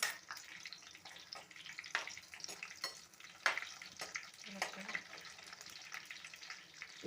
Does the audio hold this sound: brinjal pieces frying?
yes